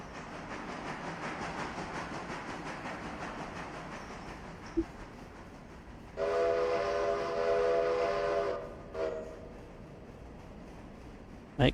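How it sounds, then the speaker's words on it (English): A freight train in the RailRoader video game rumbles steadily along the track, its horn blowing a long, loud, sustained blast midway through, followed by a brief second toot. "Make way for the Cadbury train."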